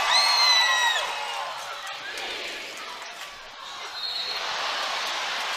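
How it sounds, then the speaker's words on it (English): A volleyball arena crowd at a women's college match between Texas and Arizona State cheers and whoops loudly with shrill whistles, then settles into a sustained roar that swells again at the end. "Crowd loves it here."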